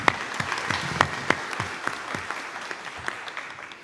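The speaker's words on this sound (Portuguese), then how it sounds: "Conosco, Lídia Andreata, uma salva de palmas." Audience applause at a solemn academy induction session, a dense burst of clapping from a seated crowd in a hall, steady at first and gradually thinning toward the end.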